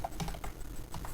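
Quick, faint clatter of keystrokes on a computer keyboard, a short burst of irregular taps close by with no voices.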